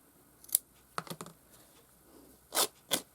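Scissors snip a piece of fabric for a stitchery piece in a handful of quick, close cuts: a few short crisp snips, a pause, then two sharper cuts near the end, quiet and without talk.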